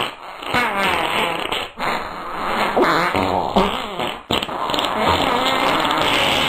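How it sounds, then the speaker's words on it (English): Continuous flatulence, long rasping farts and gurgling bursts that run almost without pause for several seconds, close and loud with brief dips between blasts, no talk. "Phew, that was a lot of farting."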